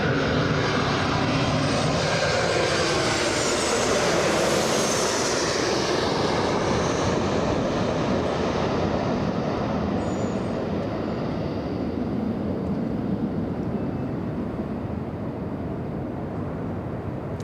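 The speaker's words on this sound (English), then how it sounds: "WestJet. This one flying in from Calgary." A WestJet airliner arriving from Calgary at Los Angeles International roars past close and loud, its jet engine whine sweeping and then slowly fading into a lingering rumble.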